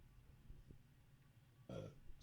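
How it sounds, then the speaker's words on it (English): A single short, low burp from a person on a film review podcast, brief and fairly close against a quiet room background. "I had a burp. That's disgusting."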